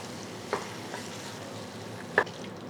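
Chopped mushrooms stir-frying in a pan, a low steady sizzle with two distinct scrapes of a spoon against the pan, one early and one near the end.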